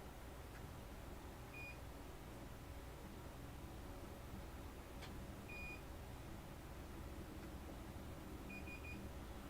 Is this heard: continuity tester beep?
yes